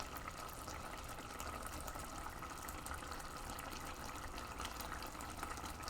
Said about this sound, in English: Clean up garlic crusher or knife under cold water